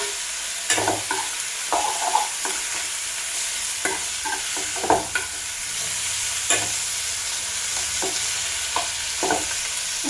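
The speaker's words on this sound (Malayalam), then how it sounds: "അതിനകത്തോട് നമുക്ക് അരിഞ്ഞ് വെച്ച തക്കാളിയും കൂടെ ചേർത്ത് കൊടുക്കാം." Chopped tomatoes sauté in a hot pan for a quick Kerala-style curry, with a steady sizzle underneath and a spoon scraping and stirring in scattered strokes, close and clear with no talk.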